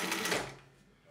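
A Juki LU-563 industrial walking foot sewing machine runs at full speed, about 500 stitches per minute, as a loud, dense mechanical whir that fades toward the end of the short stretch.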